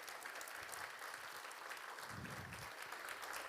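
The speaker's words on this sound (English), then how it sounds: "So give him a round of applause," An audience at a public safety awards ceremony applauds a bagpipe player, a steady patter of clapping held at a moderate, fairly distant level for the whole stretch.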